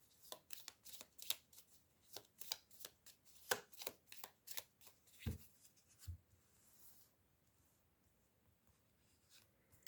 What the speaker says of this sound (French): je vais prendre un petit jeu de 32, le célestial, en 3 cartes